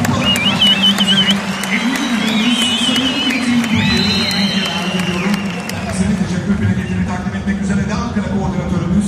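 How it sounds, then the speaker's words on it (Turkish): A crowd at a kickboxing and MMA gala in Ankara applauds and cheers the two young fighters, with loud sustained clapping, whoops and whistles over an amplified announcer's voice. "Her iki genç sporcumuz için de bir büyük alkış rica ediyoruz sizlerden"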